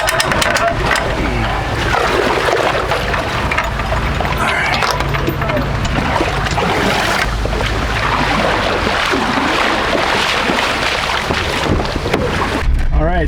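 A boat on a Wisconsin lake in Door County, with a steady rush of water against the hull, engine rumble and wind buffeting the microphone, while people talk over it.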